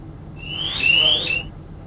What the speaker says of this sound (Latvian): Nemirstiet ieslēgt signalizāciju.